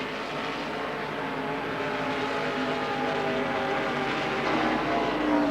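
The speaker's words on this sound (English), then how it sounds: "these cars are purpose-built race cars, as distinct from the AUSCARs" Purpose-built NASCAR race cars lapping the Calder Thunderdome oval in 1990, a steady, sustained engine roar that swells slightly toward the end, with no voices over it.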